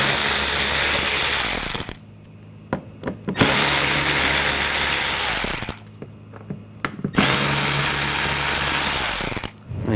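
A power tool with a T20 socket drives screws out of the front bumper on a 2014-2020 Nissan Rogue, running in loud sustained bursts split by short pauses and small clicks.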